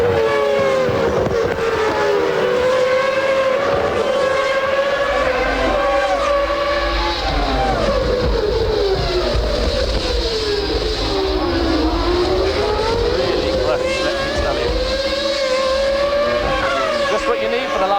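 Formula 1 race cars scream past at the 1997 Japanese Grand Prix, with loud high-revving engines whose pitch rises and falls through gear changes. A commentator talks over the constant roar.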